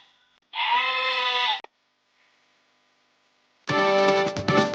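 Two loud, close sheep bleats sound one after another with a short silent gap between them, each a harsh, quavering cry standing alone in a story scene.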